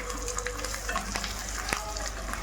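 Egg biryani masala with salt and chili powder being stirred in a pan, a steady close sizzle and frying hiss with occasional scraping clicks of the spoon.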